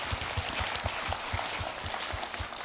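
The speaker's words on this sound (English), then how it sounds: "give all those people a round of applause because it's not easy" Conference audience at a CEO forum claps steadily, a dense wash of hands with a few lower thumps throughout, even and sustained.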